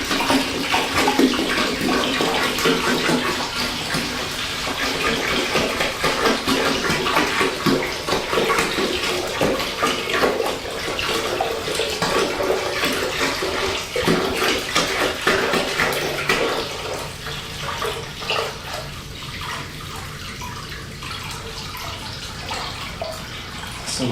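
Water pours continuously into a 5-gallon Fluval Spec 5 aquarium over soil, a steady splashing rush that softens toward the end.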